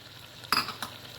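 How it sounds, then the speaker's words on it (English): Green chilies, tomatoes and onions drop into a hot pan for mutton biryani, giving a brief, close burst of sizzling followed by a second, smaller scrape or hiss. "Now I'm going to add the green chilies, the tomatoes, and the onions to it."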